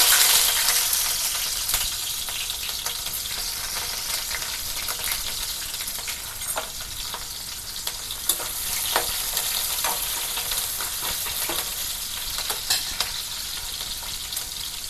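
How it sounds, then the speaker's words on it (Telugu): Chopped onions frying in hot oil for a broad beans seed curry, a continuous dense sizzle with occasional clicks and scrapes of stirring, heard up close without talk. "ఆనియన్స్ అయితే గోల్డెన్ కలర్లో వస్తే బాగుంటుంది మంచిగా అటు ఇటు కలుపుతూ ఉండాలి"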